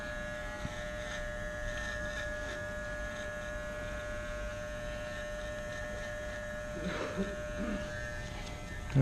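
Electric hair clippers cutting hair for a taper: a steady, mid-loud buzzing hum running throughout, with slight changes in tone as the blades move through the hair.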